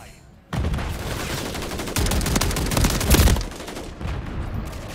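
Auto shotgun blasting in the Call of Duty Modern Warfare 3 open beta, a dense run of loud, rapid shots that starts abruptly and keeps pounding, swelling briefly into a heavier burst before easing, with faint voices underneath.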